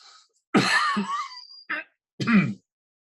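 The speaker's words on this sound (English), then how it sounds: "Excuse me, I have to cough again." A presenter coughs close to the microphone in three harsh, throaty bursts: a long one first, then two shorter ones, with brief silences between them.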